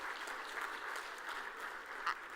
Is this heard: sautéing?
no